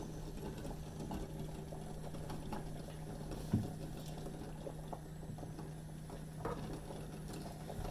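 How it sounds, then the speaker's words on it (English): A pot of water boils on a stove for soft-boiled eggs, a faint, steady low bubbling and rumble with a soft knock partway through. "We can watch boiling water if you like."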